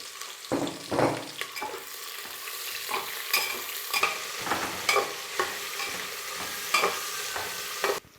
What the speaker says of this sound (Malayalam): സവാളയാണ്, ഒരു 2 സവാള എടുത്ത് അരിഞ്ഞതുണ്ട്. അത് ഇതിനകത്തോട്ട് ഇട്ട് കൊടുത്ത് വഴറ്റിയെടുക്കണം നമുക്ക്.